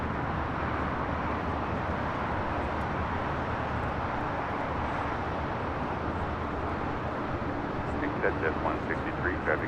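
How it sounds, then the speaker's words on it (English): Hawaiian Airlines Flight 3, an airliner at LAX, gives a steady, loud, broadband jet roar that fills the whole stretch without letting up, with a few faint voice-like tones near the end. "This is Hawaiian Airlines Flight 3."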